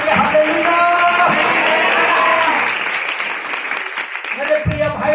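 A congregation claps at a Sunday church service, a loud, thick spread of applause mixed with voices and a sustained musical tone, easing slightly midway before swelling again.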